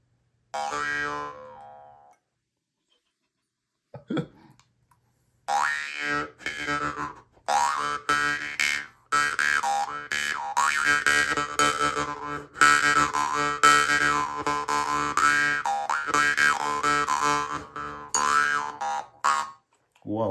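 A metal Mongolian jaw harp twangs continuously with shifting, vowel-like resonances after a short opening burst and a pause; rhythmic, close, and fairly loud.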